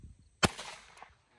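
A single sharp gunshot from a pistol-caliber carbine at an outdoor shoot-off, a loud crack followed by a brief echoing tail, with faint background noise before it.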